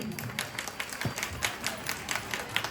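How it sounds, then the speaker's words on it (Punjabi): Women clap together at a Punjabi Teeyan festival gathering, a quick run of rhythmic claps close by with a faint murmur behind. "ਕੁੜੀਆਂ ਇਸ ਤਿਹਾਰ ਲਈ ਇੱਕ ਵਾਰੀ ਤਾੜੀ ਲਾਓ"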